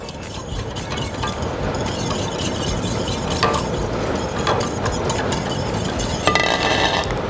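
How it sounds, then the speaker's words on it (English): Whisk stirring cocoa powder into hot, not-boiling water in a pot on a stovetop, a steady continuous scraping swish with light metallic clinks, close and alone without talk. "I'm gonna start to whisk in my cocoa now"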